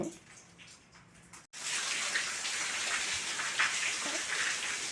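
Heavy rain pours down outside. After a quieter opening, a steady, dense hiss starts abruptly and continues close and loud to the end.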